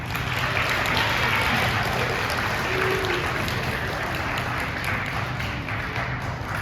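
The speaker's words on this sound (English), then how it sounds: "let's give these wonderful sixth graders a round of applause" Applause for sixth graders at a school assembly, a steady, even patter of many hands that carries on for several seconds without talking.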